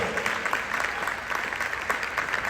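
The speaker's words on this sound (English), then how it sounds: "Let's give them a round of applause for making sure." An audience at a 2023 State of the City address applauds, a steady wash of many hands clapping throughout with no pause.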